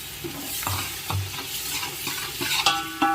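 Frozen peas tumble into a hot pan and get stirred, making scraping spoon strokes over a soft sizzle. There are several distinct stirring scrapes, with a sharper clatter near the end, close and moderately loud.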